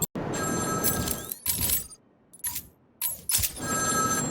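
A telephone rings in the Batman: Arkham City side mission, bright electronic bursts repeating in short groups separated by brief silences, close and clear without speech.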